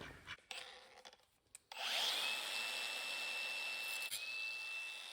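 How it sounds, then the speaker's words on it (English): Drill bores a hole at the end of a crack in the metal body of a 1970 GMC 2500 truck, a few faint knocks giving way to a sustained whining grind, close and moderately loud, no talk. "I'm just gonna drill a hole right here at the end of the crack"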